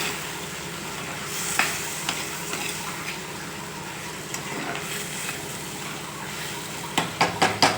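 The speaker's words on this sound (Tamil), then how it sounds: "காளான் கொஞ்ச நேரம் எண்ணெயிலே வதங்கட்டும்." Mushrooms fry in oil in a pan with a constant sizzle, while a spoon stirs and scrapes intermittently, ending in several sharp clinks of the utensil against the pan.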